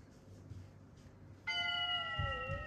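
Cat meow used as a sound effect: one clear, close, drawn-out mew with a falling tail, rising above faint background noise, with no talking over it.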